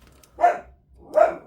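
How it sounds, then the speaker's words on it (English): A dog barks twice, two separate, fairly close woofs about three quarters of a second apart, with no talk around them. "That's a dog."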